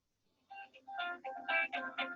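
Phone rings in a short melodic ringtone pattern, a few clear chiming pulses that start after a brief silence, fairly faint and alone.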